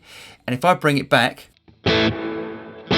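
Electric guitar through a Boss Katana amp with modulated reverb and high cut applied, giving a duller reverb tail; a voice speaks first, then sustained strummed chords ring out with dark, softened decay.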